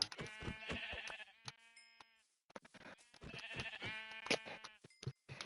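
Sheep in the Minecraft video game bleat several times in quick succession, loud and close, with a brief pause midway before more bleats follow.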